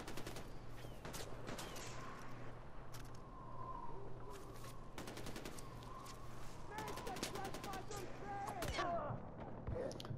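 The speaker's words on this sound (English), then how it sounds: "the sniper is still up there murdering" Sharp, scattered sniper rifle shots in the video game Far Cry 4, with spaced single cracks and a few quick clusters over steady background noise.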